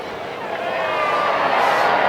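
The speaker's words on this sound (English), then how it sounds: "It sounds like a Mexican wave" A cricket crowd in the Hollies stand at an England women versus India women T20, a rising swell of distant voices that builds and sustains like a wave rolling around the ground.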